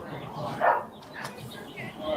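Dogs on a rope bark and yip in short, moderately distant bursts, partly overlapped by voices in the room.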